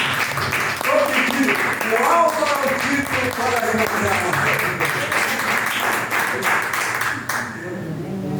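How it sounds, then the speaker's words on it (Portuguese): A church congregation applauding the Lord, sustained clapping from a large group throughout, with someone speaking over it before the applause fades near the end. "eu gostaria de terminar essa mensagem aplaudindo o Senhor"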